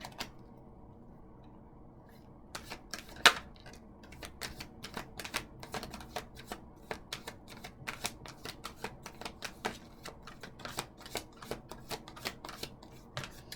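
Tarot cards are shuffled close by in a long run of rapid, crisp riffling clicks and flicks that rise and fall in bursts, with no talking.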